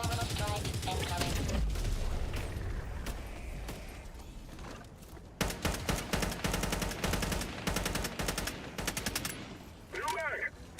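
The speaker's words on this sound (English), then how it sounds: "Calling in orbital strike." Orbital strike in Helldivers 2: a rapid burst of heavy gunfire-like blasts hammers through the middle and later part, preceded by a dense rumbling barrage, loud and close with game voice callouts mixed in.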